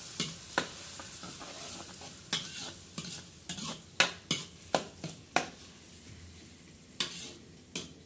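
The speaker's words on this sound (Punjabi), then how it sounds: "ਹੁਣ ਇਹਨੂੰ ਚੰਗੀ ਤਰ੍ਹਾਂ ਆਪਾਂ ਲਾਂਗੇ ਭੁੰਨ" Kofta curry masala frying in a pan on a desi clay stove, a low sizzle punctuated by a rapid series of sharp spatula knocks and scrapes against the metal, close and crisp.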